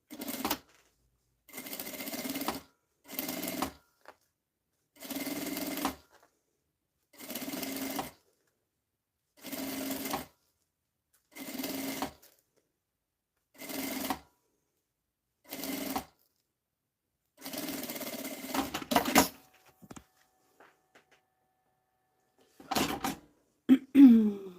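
A sewing machine stitches a fabric seam on a cloth bag, running in about a dozen short, even bursts of rapid whirring with silent pauses between, close and clear, followed by some handling noises.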